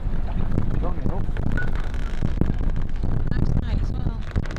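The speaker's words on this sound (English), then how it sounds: "Windy. Very windy." Strong wind buffets the microphone with a constant heavy roar and rumble, water and boat sounds mixed underneath.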